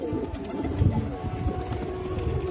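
Pigeons coo softly, with low throaty burbles over a steady background hum and faint rustling, several calls overlapping close by.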